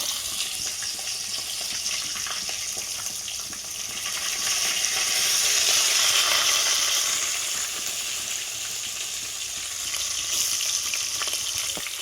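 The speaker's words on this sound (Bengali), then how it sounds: "ঠিক আছে চলো এগুলো এখন ফ্রাই হচ্ছে।" Prawns sizzle and crackle steadily in hot oil over low heat, a dense, continuous frying hiss that swells slightly in the middle and stays close with no talking.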